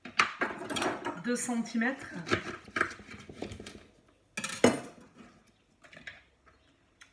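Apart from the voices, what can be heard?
knife cutting violet artichokes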